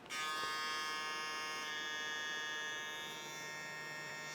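A steady electric buzzing from a dual-coil hair clipper runs close by, starting abruptly and holding an even whine for several seconds with no voices.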